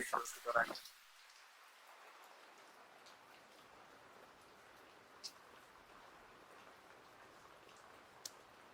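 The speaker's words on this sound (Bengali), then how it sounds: "এইভাবে টিপ টিপ বৃষ্টি হচ্ছে" Faint, steady patter of light drizzling rain from Cyclone Remal, heard alone after a brief voice at the start, with occasional isolated drips.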